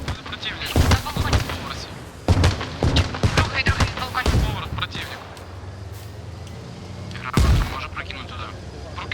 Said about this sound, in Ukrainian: Що там за гранати ще бахають?